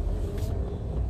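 A car passing at a junction in a residential housing complex, a steady low rumble of engine and road noise heard from inside a manual-transmission car, continuous and moderately loud throughout.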